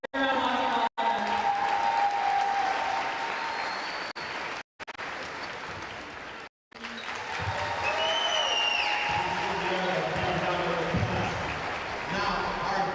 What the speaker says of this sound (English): So give a round of applause to all of them.